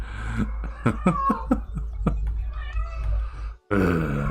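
A pet cat makes a run of short, close, rough vocal bursts, meows and throaty grunts in quick succession, followed by a brief louder sound at the end.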